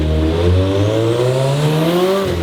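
Turbocharged Subaru BRZ / Toyota 86 with an equal-length turbo manifold, engine droning and rising steadily under load, with turbo whine climbing over it, loud and close throughout.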